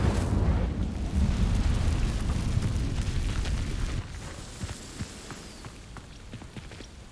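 An Incendio fire spell in Hogwarts Legacy sets dry vines burning, starting as a loud, low roaring whoosh that drops abruptly after a few seconds to a quieter crackle with scattered pops.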